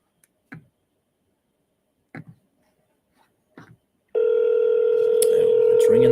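Several soft key presses tap out at uneven intervals on a telephone, followed by a loud, steady tone that sounds as the call is placed; a few clicks sit over the sustained tone near the end.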